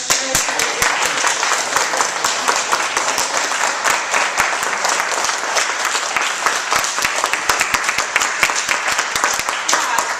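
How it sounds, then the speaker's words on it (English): An audience at a school gathering honoring a Harlem public school teacher applauds steadily, dense overlapping claps filling the room for the full length without pause. "Can we give a round of applause"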